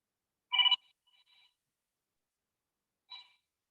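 A mobile phone rings during an online book launch talk: a short loud burst of ringing tones, then a faint trailing chirp and another brief ring about two and a half seconds later, with quiet between.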